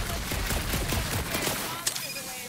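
Gunfire in the Marvel's Guardians of the Galaxy video game: rapid bursts of shots crackle over a busy game soundscape, with one sharper crack near the end, fairly faint under a loud mix.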